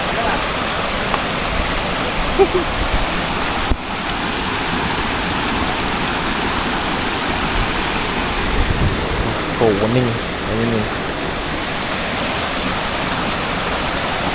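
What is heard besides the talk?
Kapas Biru waterfall in Lumajang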